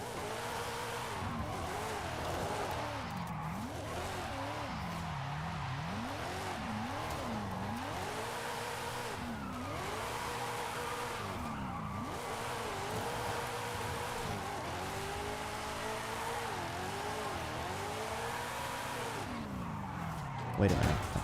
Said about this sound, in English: we'll just start drifting around